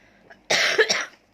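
A single short cough, close and fairly loud, with a rough throaty burst and a smaller catch at the end.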